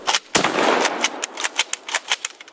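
A Turkish shotgun fires its final round: one loud, close blast with a short ringing tail, followed by a few sharp mechanical clicks of the action.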